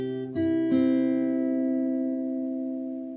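Acoustic guitar plays the first bar of a lesson piece, a bass note and then a few plucked notes that ring on and slowly fade, close and alone.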